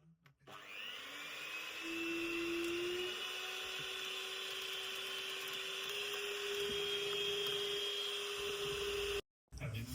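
An electric blender whirs loudly and steadily for about nine seconds while beating passion fruit mousse with concentrated passion fruit and lime juice, starting up with a rising whine, then cutting off abruptly.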